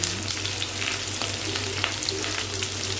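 Onion and green chillies sautéing in a pan for a capsicum gravy, giving a close, continuous frying sizzle with soft stirring scrapes and a low steady hum underneath, no voices.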